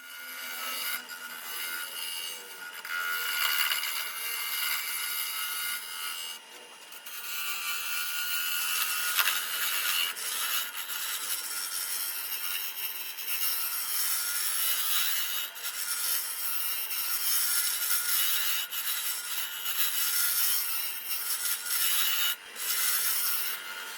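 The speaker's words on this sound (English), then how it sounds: "I'm smoothing out the transitions using the skew chisel as a negative rake scraper, and I'm also using my round scraper." Skew chisel held as a negative rake scraper and a round scraper smooth scrap wood on a lathe for tea light holders, a steady hissing, rasping scrape running continuously with brief dips.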